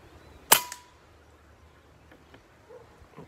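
A PCP R2 800 6.35 mm air rifle fires a single sharp, loud shot outdoors, a crisp crack with a brief echo followed by quiet ambient sounds and faint distant noises.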